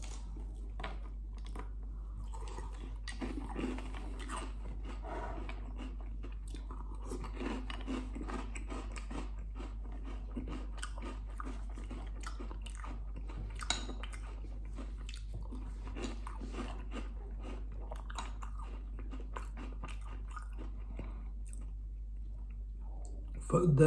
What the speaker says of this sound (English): Me having cereal